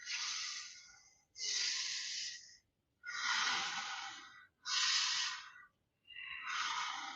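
Slow yoga breathing during an Ashtanga-style beginner session: five long, airy breaths, close and steady, each separated by a short pause, with no talking.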